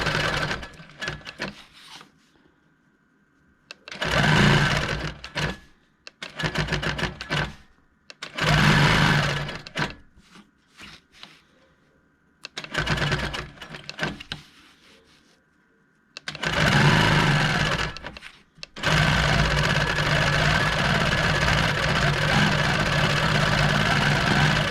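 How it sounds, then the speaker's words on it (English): A sewing machine stitching texture into a quilt along a ruler runs in several short bursts separated by pauses, then settles into one longer steady run at the end. "Keep the ruler where it is and just stitch."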